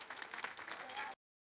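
Spectators at a Miami Open tennis semifinal break into applause, a dense patter of clapping for about a second before it abruptly cuts off.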